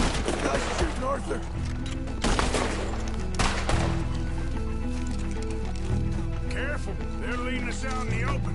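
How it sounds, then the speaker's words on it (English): Gunfire rings out in Red Dead Redemption 2 during a nighttime shootout, several sharp shots and bursts over game music and character voices. "This guy's shooting Arthur."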